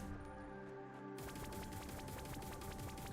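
Assault rifle gunfire in the Anvil roguelike shooter video game, a steady rapid stream of shots over a dense game soundtrack, fairly faint and continuous throughout.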